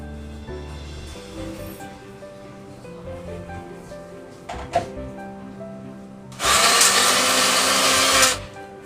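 Mixer grinder coarsely grinding mint leaves for chutney, heard as a loud, harsh whirring burst lasting about two seconds that cuts in abruptly after a quieter musical stretch and then stops.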